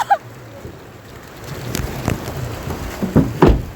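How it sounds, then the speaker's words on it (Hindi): Steady heavy rain in Neelum Valley, Azad Kashmir, hissing broadband throughout, with a few louder splashes or gusts swelling toward the end; no voices. "आज बारिश तेज हो गई है"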